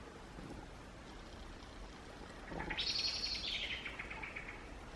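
Bird calls chirp and warble outdoors, a louder burst of song rising midway over a soft, steady background hiss.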